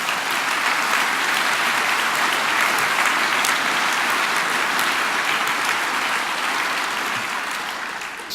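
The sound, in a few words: audience applause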